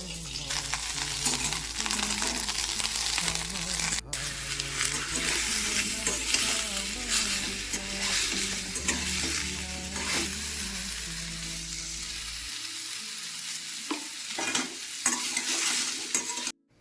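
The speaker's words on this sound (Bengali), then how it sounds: "আলু, কড়াইশুঁটি, টমেটো দিয়ে তরকারি করব।" A potato, pea and tomato curry with black cumin and green chilli sizzles steadily in a pan, a spoon stirring and scraping through it with clinks until the frying cuts off near the end.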